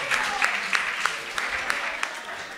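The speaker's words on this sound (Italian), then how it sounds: "Allora facciamo un applauso al suo impegno." Studio audience applause on an Italian sports talk show, a moderate, even wash of clapping with a few sharper claps standing out, heard without speech.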